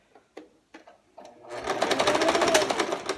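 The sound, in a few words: sewing machine back stitching a waistband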